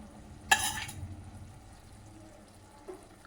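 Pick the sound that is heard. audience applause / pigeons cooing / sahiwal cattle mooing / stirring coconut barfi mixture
stirring coconut barfi mixture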